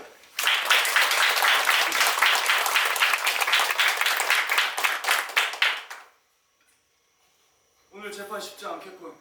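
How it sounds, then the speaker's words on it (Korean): At a theatre play staged as a courtroom drama, the audience gives loud, dense applause for about six seconds, then it cuts off to silence before a voice speaks. "송원달 판사님을 가장 큰 박수로 모시겠습니다."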